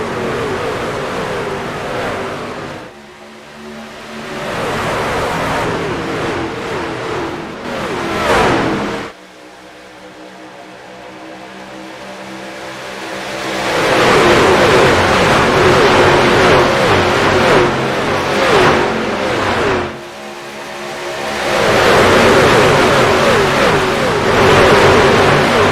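Race cars at Daytona accelerate after the green flag. Loud, layered engines rev and rise in waves, drop briefly, then roar past again close by for nearly half a minute.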